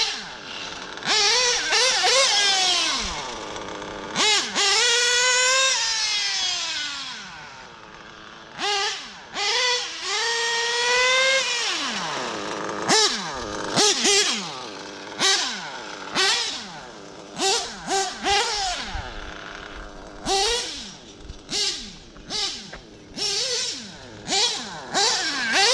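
A warmed-up RC basher car with a modified LRP .28 nitro engine screams through long high-pitched revving runs, then fires off a rapid series of short, sharp blips and throttle stabs close up.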